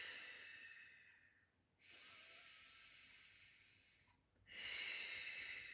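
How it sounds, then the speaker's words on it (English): Slow, close breaths during a Pilates stretch: a soft airy inhale, then a longer, louder hissing exhale, followed by another breath, quiet and alone. "Breathing in through the nose, out through the mouth."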